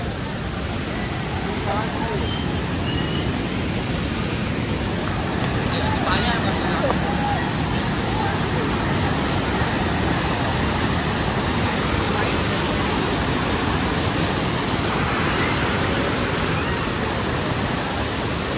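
Patalganga river water rushing and falling over waterfalls near Khopoli, a steady, dense broadband roar filling the whole stretch without a break.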